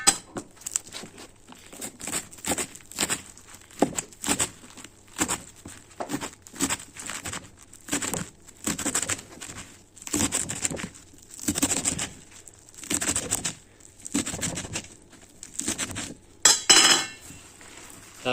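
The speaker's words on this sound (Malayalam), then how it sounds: "കീര അരിഞ്ഞു" A knife chops through a rolled-up bundle of spinach leaves (keera) on a board in a steady run of crisp, close taps lasting throughout, with no talking.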